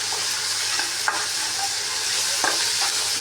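Ginger garlic paste sautés in a hot pan for a mango pachadi, a steady loud sizzle with faint stirring scrapes and a couple of soft clinks, with no voices.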